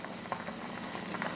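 A pot of kimchi stew, with torn pieces of flour dough added, bubbles and seethes at a steady rolling boil, close and continuous throughout with no voices.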